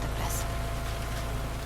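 Rain falls in the video game The Last of Us Part II, a dense steady hiss of drops on surfaces, loud and continuous for the whole moment with no clear talk over it.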